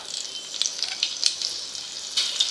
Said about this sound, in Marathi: तर यात घालायची आहे आलं लसूण ठेचा